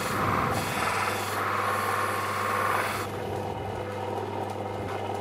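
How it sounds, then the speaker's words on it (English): An opal stone from Mintabie is pressed against a spinning leather buff polisher, giving a loud, continuous close-up rubbing whir over a steady motor hum, with the friction noise shifting in intensity as the stone is moved. "I'm just going to use the edge of the polisher to catch the little bit of a dip here in the side of the stone"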